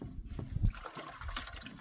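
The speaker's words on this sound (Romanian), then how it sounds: "Mă, cu apă curată, de aici de munte, cu apă caldă, Fiecare își spale, curate. fiecare își spală găleata lui." Clean mountain water trickles and splashes as buckets are washed at a sheep fold in Maramureș, a soft, faint dribbling with a few small sloshes in quiet outdoor air.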